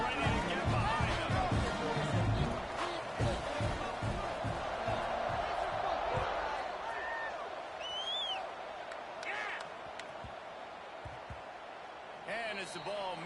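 Football stadium crowd at a Nebraska versus SMU game roaring at kickoff, a broad distant wash of cheering and whoops that swells and fades under continuous commentator speech.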